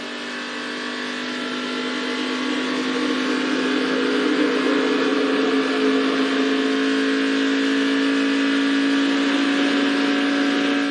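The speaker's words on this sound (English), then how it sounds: "You hear him come up through the gears" A race car at the 2019 Lucas Oil 200 revs up through the gears, its engine a loud, sustained rising whine holding a strong steady tone for the full stretch with no talk.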